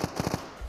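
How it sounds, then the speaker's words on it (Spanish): Gunfire in the video game Project Evo crackles nearby as a quick burst of three or four sharp shots, loud and close, over a dense, noisy game background. "se oye muy cerca los disparos"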